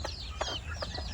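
Hens cluck on a farm, several short, close calls spaced through the moment over a steady low background hum, with no talking.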